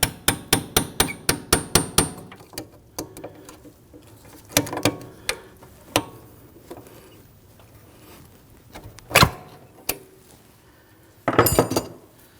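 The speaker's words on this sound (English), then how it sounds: "I'm going to use our punch here to work our tool in a little bit further." Metal punch tapped with a hammer to work a tool into a brake cable release on a 2013-2019 Ford Interceptor Utility, a quick run of sharp metallic taps followed by sparser single knocks and a final cluster, close and clear.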